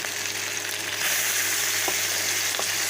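Beef fries in a pan for a Filipino-style beef afritada curry, giving a bright, steady, close sizzle that grows a little louder partway through, with no talk.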